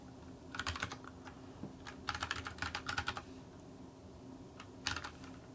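Bursts of typing on a computer keyboard while setting up a terminal text editor written in Go, with quick clusters of close, crisp key clicks separated by short pauses.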